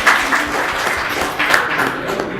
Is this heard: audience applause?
yes